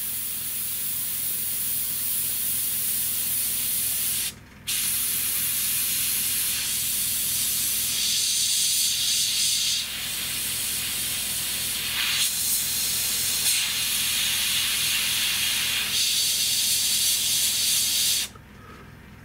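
A pistol grip airbrush sprays paint in a steady, loud hiss to lay down a blurred blob of German-style camouflage, broken by a brief pause near the start and cutting off just before the end.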